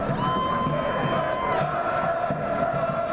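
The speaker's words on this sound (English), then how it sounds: "Well, the crowd respond, and rightly so." Home rugby crowd at a BUCS Super Rugby match between Loughborough and Nottingham Trent roaring and cheering after a try, a steady, dense wash of voices sustained throughout.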